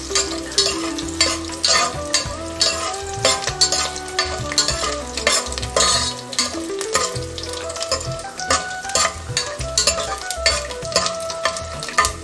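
Peanuts, cashews, green chillies, chana dal, urad dal and mustard seeds frying in hot oil for raw mango rice, with a steady loud sizzle and repeated scraping of a spoon stirring the pan.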